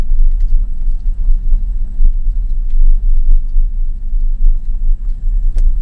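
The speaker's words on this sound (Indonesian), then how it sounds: "adanya di sini hilir mudiknya adalah mobil angkutan perkebunan di sini" Plantation transport trucks pass along a road through a palm oil and sugarcane plantation, a steady loud low engine rumble and road drone running throughout with no talk.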